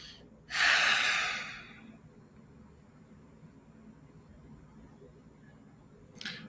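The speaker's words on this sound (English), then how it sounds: "For anyone here with us live and for anyone listening, inviting you to take a breath." A single slow, breathy exhale hisses loudly for about a second, then fades into quiet room tone, with a second breath just beginning at the end.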